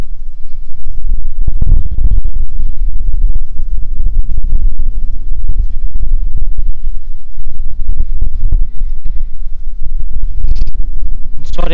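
Strong wind buffets the microphone outside the ruined, abandoned Sanquhar Castle, which is fenced off. A loud, continuous low rumble with gusty surges runs throughout, and no voices are heard.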